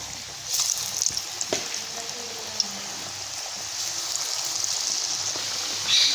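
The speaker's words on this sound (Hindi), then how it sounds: "ऑयल जो है वो हमारा गरम हो चुका है। अभी इसमें हम पकोड़े बनाना स्टार्ट करते हैं।" Pakoras frying in hot oil for kadhi pakora, a steady close sizzle and crackle with a few soft spoon clicks, running alone without speech.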